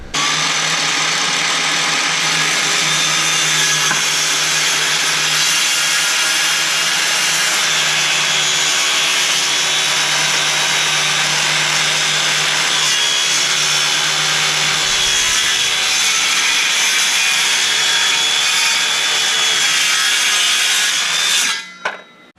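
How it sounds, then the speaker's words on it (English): A power grinder works on the bottoms of scrap angle iron stool legs, making a loud, steady, high-pitched metallic whine that holds without a break for over twenty seconds before cutting off abruptly. "We're just gonna grind that off"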